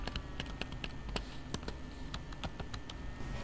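Quick, irregular clicks of a computer keyboard as Ruby code is typed, crisp close-up keystrokes in short bursts at low volume.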